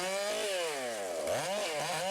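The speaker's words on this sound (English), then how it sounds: "The powerful chainsaw rips right through this big log, bringing it to the ground in almost no time." A powerful chainsaw cuts through a big log from a felled problem tree, its engine whining steadily and dipping in pitch as it bogs down in the wood, loud and continuous.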